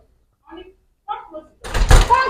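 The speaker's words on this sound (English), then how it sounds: "Come close the door." An indoor door is shut with a loud, close, broadband thud that fills the last second, after a few short spoken words.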